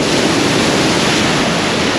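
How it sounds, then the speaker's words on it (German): A wave breaking on a windy beach on Spain's Costa del Sol, heard up close as a loud, unbroken wash of surf roar with wind noise on the microphone. "Oh, Welle!"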